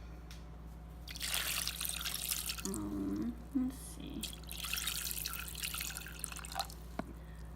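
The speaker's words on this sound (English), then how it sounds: "then you add water to cover" Water poured over rocks inside a rock tumbler barrel, giving two splashy trickling bursts separated by a short pause, close and moderately loud, with a brief murmur of voice nearby.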